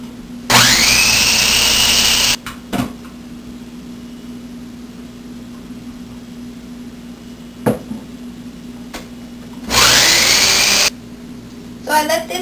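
A food processor whirring loudly as it blends a chickpea dip, running in two strong bursts separated by quieter gaps with clicks and handling sounds.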